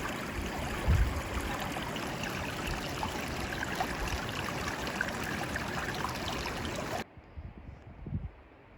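A mountain stream in the Mount Zirkel Wilderness rushes in a steady broadband wash close by, cutting off abruptly near the end to faint outdoor ambience with a few light thumps.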